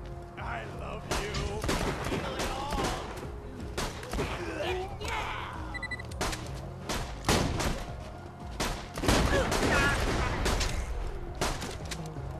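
Shotgun blasts boom in Borderlands 2 combat, with repeated loud, close bursts of gunfire scattered across the scene.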